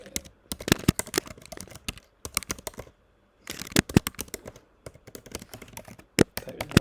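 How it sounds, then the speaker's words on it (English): A password typed on a computer keyboard: quick bursts of close, crisp key clicks in irregular clusters separated by short pauses. "Type in our super secure password and click on sign in"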